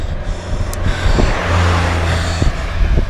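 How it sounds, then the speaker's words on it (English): A car carrying a canoe on its roof passes close by on a steep road near Fort Augustus in Scotland, its engine and tyre rumble swelling loudly and steadily, with no talking. "Car coming"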